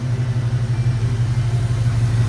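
A 1969 Chevrolet El Camino V8 idles steadily up close through a new dual exhaust with Flowmaster mufflers and original exhaust manifolds, a deep, even rumble with a lumpy pulse and no revving.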